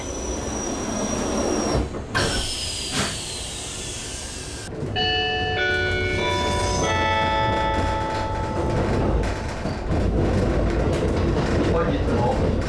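Limited express train doors close at a JR East station during the Tokyo morning rush amid a steady rumble, followed by a series of electronic chime tones ringing out over the station noise.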